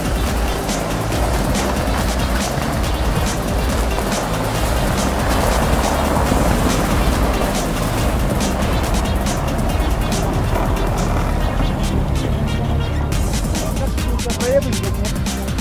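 A UAZ Patriot 4x4 pushes along a narrow off-road track, its engine a steady, loud close drone with rough rumbling throughout while people talk over it.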